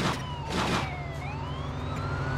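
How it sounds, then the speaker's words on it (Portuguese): A police car siren in the video game True Crime: Streets of LA wails with rising and falling tones over a steady engine-like rumble, loud and continuous with no talking. "A sirene da polícia toda bugada no meu ouvido"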